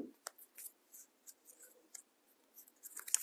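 Scissors snipping foam into pointed flower petals, a run of quiet, quick cuts spread irregularly across the moment, faint and close with no talking.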